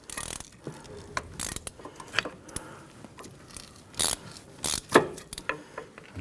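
A stuck Allen bolt on a rear brake caliper of a 1999-2004 Jeep Grand Cherokee being turned and pried, irregular close metallic clicks, scrapes and ratcheting clunks with short pauses between efforts.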